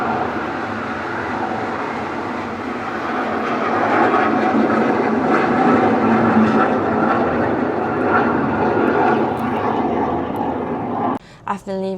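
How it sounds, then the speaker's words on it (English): A fixed-wing airplane passes over a house, its broad engine roar steady and loud for most of the time before cutting off abruptly near the end, followed by a brief clatter. "The plane is here again."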